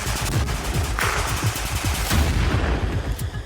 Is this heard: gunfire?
yes